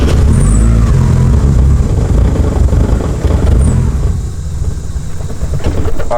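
Turbocharged car engine idling with a misfire, loud and close, its uneven rumbling pulse running throughout and easing slightly toward the end.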